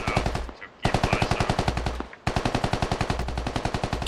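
Rapid automatic gunfire in a SquadOps military video game, three long sustained bursts of rhythmic shots separated by short pauses, loud and close with no talk over it.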